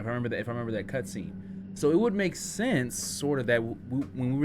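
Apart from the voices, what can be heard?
No distinct noise like a dog, phone or traffic.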